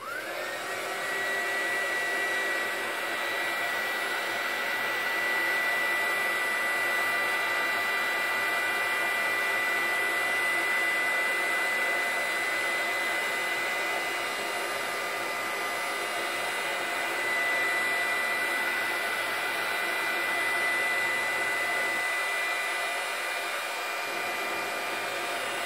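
A hot air gun blows steadily and loudly for the whole stretch, heating a part wrapped around a thick steel peg during a GPO 746 telephone restoration; a constant whooshing hum with no speech.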